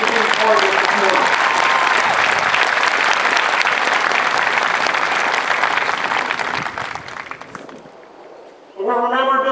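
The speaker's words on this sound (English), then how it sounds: "I'd like a big round of applause." At an Air Force basic training parade, a large outdoor crowd gives veterans a big, sustained round of applause, dense and loud for several seconds before fading, then a voice begins speaking.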